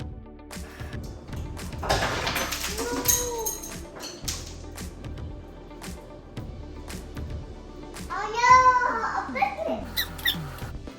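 A little girl lets out high, squeaky vocal sounds amid scattered clatter and soft movement, with a brighter burst of squeaks near the end.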